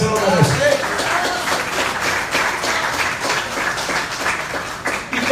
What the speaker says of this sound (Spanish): Dale un aplauso porque Él se lo merece.